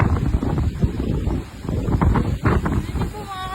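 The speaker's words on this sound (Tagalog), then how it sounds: "Napakalakas ng hangin." Strong gusting wind ahead of a storm in Zurich, Switzerland, buffeting the microphone with loud roaring surges and brief lulls, close and turbulent throughout, with faint whistling near the end.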